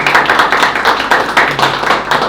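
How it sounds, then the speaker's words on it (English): Audience at a technical cryptography lecture gives a loud, close round of applause, dense rapid clapping with uneven bursts that carries steadily for a couple of seconds without any talk. "So give him a huge round of applause."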